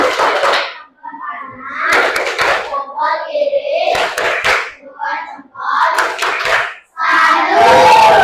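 Classroom children perform a rhythmic salute clap in a few bursts, with their voices chanting between the clap groups at close range.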